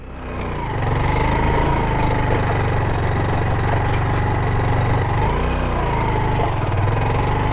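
A scooter engine idles close by and loud with a steady, unbroken mid-pitched putter, heard alone without talk on a rainy road trip in Zamboanga del Sur.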